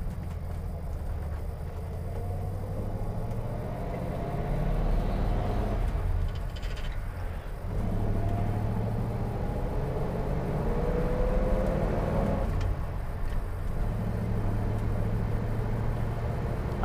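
A restored 1939 Ford Woody Wagon drives along a road, its engine giving a steady low rumble with road noise throughout, close and continuous with small shifts in tone.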